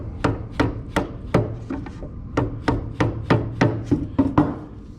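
A chisel trims a wooden cabinet face frame flush, giving a rhythmic series of about a dozen sharp, close taps and scrapes against the wood.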